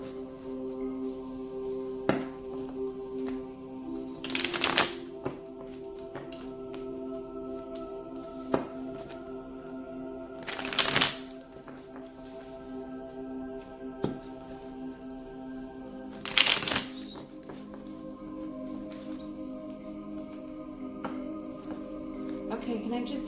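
Tarot cards are shuffled in three brief, crisp riffling bursts spaced several seconds apart, close by over a quiet, steady background hum.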